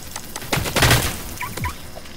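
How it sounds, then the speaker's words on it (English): Gunfire in the Roblox game Mad City, a few sharp bursts of shots with a dense cluster in the middle, moderately loud over game background noise. "Where are they shooting me from?"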